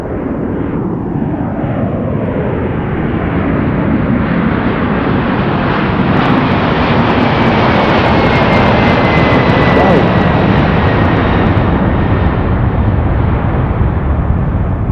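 A Boeing 767 jet airliner takes off from Anchorage's Ted Stevens International Airport with a loud, sustained engine roar that swells and rumbles across the whole span, alongside a voice talking.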